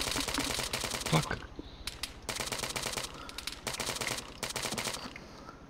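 Video game gunfire comes as rapid automatic bursts, three long volleys separated by short pauses, heard fairly close, with a few single shots.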